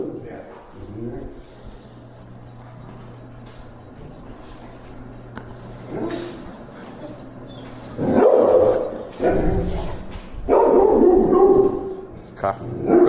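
Small, scared dog barking in short loud bursts during a behavior evaluation, with people talking nearby before the barks break out.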